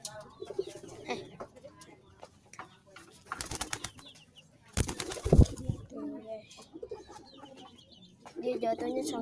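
Pet pigeons from a domestic pigeon collection coo in short bursts, with a loud flurry of flapping wings midway and another near the end, while someone talks over them.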